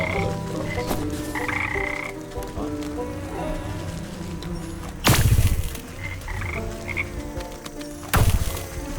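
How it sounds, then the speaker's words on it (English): A dense chorus of frogs croaks on and on in the video game Wytchwood, layered with game ambience and music. Two sharp, loud bursts of another sound break in partway through. "There's some frogs. That's a lot of frogs."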